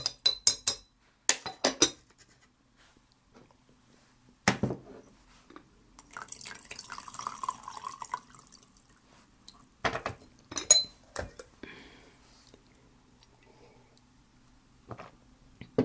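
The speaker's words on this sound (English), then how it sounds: "Okay, more green tea. I'll give it another stir." A spoon stirs green tea in a cup, giving a few clusters of light clinks and taps near the start and again later, separated by quiet gaps and a soft liquid swirl in the middle.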